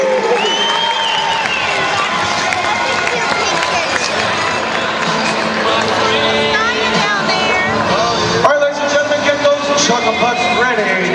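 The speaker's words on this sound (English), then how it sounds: "big round of applause for the Cape Fear Youth Hockey Association" A large crowd at a FireAntz hockey game in an arena applauds and cheers for the Cape Fear Youth Hockey Association, a loud, dense wash of clapping and voices that holds steady throughout, with music or announcer sound mixed in.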